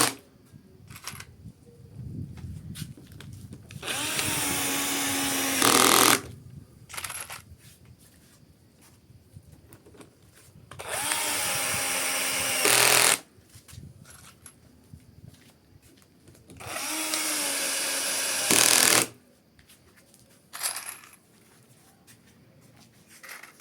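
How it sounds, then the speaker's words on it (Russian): Power screwdriver driving self-tapping screws to clamp panels of a DOMO lightweight house-building system, three separate loud whirring bursts of a few seconds each, spaced apart with quieter handling clatter between. "Но мы пока стянем все это саморезами."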